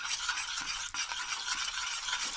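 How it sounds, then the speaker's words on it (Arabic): Caramel being stirred in a pan on the heat, giving a continuous soft scraping and sizzling texture with a few brief clicks of the utensil, faint and close, no talking. "ونستمروا في التحريك حتى يولي اللون ديالو بحال الكراميل"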